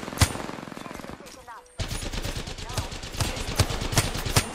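Rapid automatic gunfire from an Apex Legends firefight rattles in bursts, with a short pause before another sustained volley of shots.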